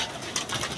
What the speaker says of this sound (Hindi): सिंपल सा कबूतर है